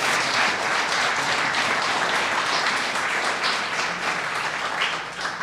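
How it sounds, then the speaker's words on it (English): A lecture audience gives sustained, loud applause for a guest speaker at a university campus event, a thick wash of many hands clapping that tapers slightly near the end. "give a resounding applause to Dr. Earl Long, our special guest"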